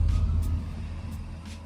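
A dusty, rough-looking Toyota Chaser JZX100 with a flat tire rumbles along, its engine producing a steady low drone that is loudest at the start and eases slightly, with no talking.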